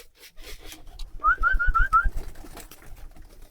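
Pigeons at a pigeon farm coo at feeding time, a short run of five soft, rounded whistling coos in quick succession, close by, with low fluttering thuds and rustling beneath.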